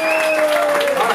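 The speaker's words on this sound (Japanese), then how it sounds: "青コーナー、ノックがヤバかったと思わずな拍手ください" Audience applause at a freestyle basketball battle, a dense, steady wash of clapping with a loud voice running over it for the whole short stretch.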